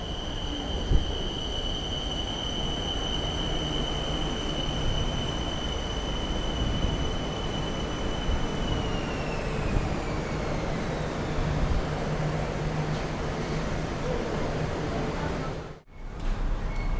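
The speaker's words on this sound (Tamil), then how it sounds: "ட்ரெயின் வரும்போதே ஒரு சத்தம் கீழே வருது பாருங்கள் அதான் பிடிஎஸ் சவுண்ட்" A Bangkok BTS Skytrain elevated metro train rolls into a station steadily with a loud rumbling roar and a long high whine that slides downward as it slows, ending in a brief dropout.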